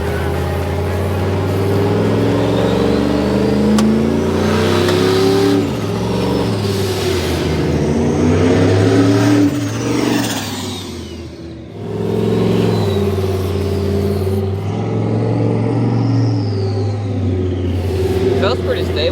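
A turbocharged car engine revs from inside the cabin, a loud, steady mid-range drone that swells and dips with throttle, briefly easing off near the middle before climbing again, with people talking over it.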